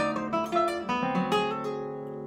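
A classical guitar plays a passage from Saudade No. 3, ringing plucked notes with sustained harmonics over a steady bass, a few clear attacks in a short phrase, close and solo.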